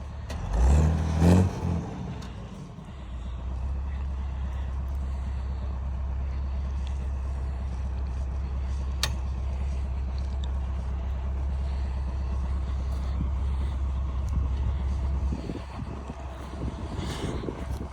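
A Chinese-made tractor plows through corn stubble, its engine a loud, steady close drone held for about fifteen seconds after a brief louder burst at the start, then easing slightly at the end.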